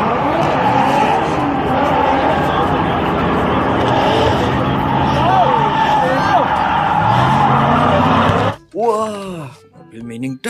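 A race car engine roars and whines continuously, close and loud for about eight seconds, then cuts off as a voice briefly speaks.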